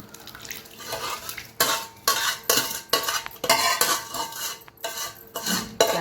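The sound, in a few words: stirring cooled tempering into chili powder for mango chutney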